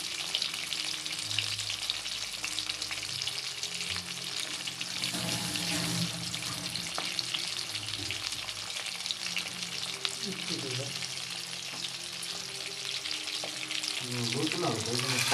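Pieces of eggplant and hilsa fish fry in hot oil with a continuous crackling sizzle, close and moderately loud, joined by occasional clinks of utensils and a few faint sounds of running water.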